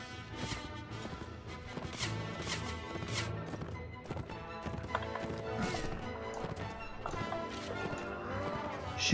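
Horse hooves galloping in the medieval combat game Mount & Blade: Warband, a steady clip-clop rhythm running through a dense, busy battle mix of clashes and background game sound, no speech heard.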